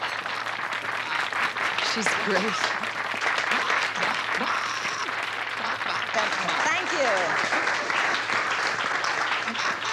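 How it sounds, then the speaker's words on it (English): An indoor audience claps loudly and steadily after a stage hypnosis act, the applause sustained throughout with a few voices speaking over it. "Let's have a big round of applause."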